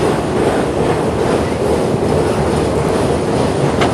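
A train rolls across a trestle over Lake Pontchartrain, a loud, steady rumble with dense wheel clatter that holds for the whole stretch, heard up close with no talking.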